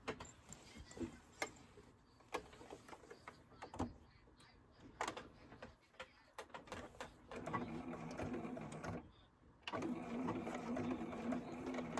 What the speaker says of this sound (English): we're just going to sew a line down here